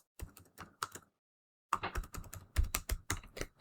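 Typing on a computer keyboard in a Windows 11 command prompt: two bursts of quick key clicks separated by a short silence, close and clear with no talk.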